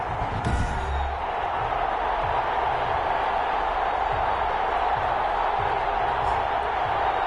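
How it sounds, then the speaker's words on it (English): A packed stadium crowd in a football video game roars in a steady, loud wash of cheering that never lets up, with no distinct voices rising above it. "This crowd is ready as their guys get set to match up"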